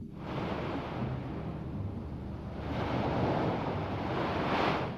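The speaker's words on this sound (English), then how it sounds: "That is the sound of the waves here on the famous beach at Waikiki." Ocean waves wash steadily onto the famous beach at Waikiki, Hawaii, a continuous broadband roar of surf with swells building louder midway and again near the end, with some wind buffeting the microphone and no voices.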